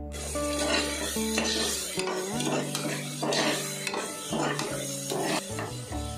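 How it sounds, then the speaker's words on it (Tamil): A utensil stirs ginger garlic paste into a pot of tomato biryani, scraping loudly and continuously against the metal over a steady sizzle of frying, with no talking. "அடுத்ததான் நம்ம அரைச்சி வச்சிருக்க இஞ்சி பூண்டு பேஸ்ட் ஆட் பண்ணிக்க போகிறோம்."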